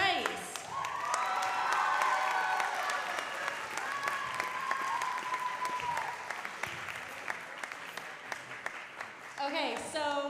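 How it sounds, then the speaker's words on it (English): Applause from an audience at a fine arts retreat rises into a long, steady round of clapping with some cheering and whistles, then tapers as a voice speaks near the end. "let's give a big round of applause"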